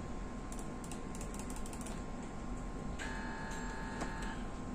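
Keys and a mouse clicking on the console computer of a GE 1.5 Tesla MRI scanner during cervical spine scan planning, light scattered taps in bursts over a steady background hum, with no talking.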